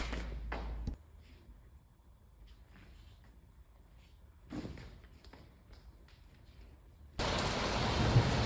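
Rain falls in India, near New Delhi, coming in as a sudden heavy broadband downpour near the end after quieter stretches with scattered knocks and splashes.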